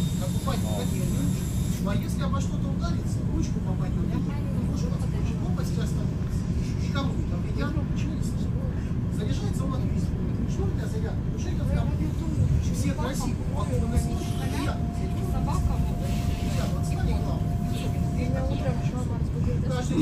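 A Moscow local train rolls along with a steady deep rumble and clatter from inside the carriage. People talk throughout, and a thin sustained whine rises for several seconds late on.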